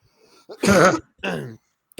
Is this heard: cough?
yes